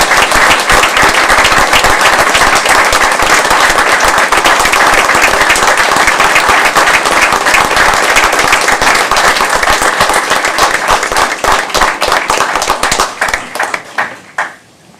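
A standing ovation at a city council meeting: loud, dense clapping from many people carries on steadily, then thins to a few scattered claps and fades out near the end.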